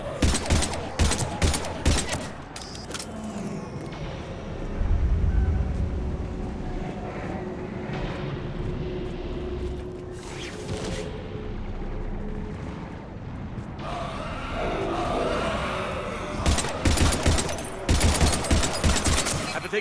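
Gunfire in Mass Effect Legendary Edition: rapid rattling bursts of automatic fire open and close the passage, with a dense roaring battle din between them, loud and close.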